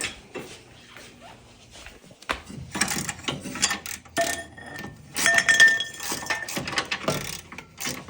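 A ratchet and tools clicking and clinking as a sway bar is pulled off a car during an LS3 swap into an S14, with irregular bursts of metallic ratcheting and clanks, close and busy, with no talking.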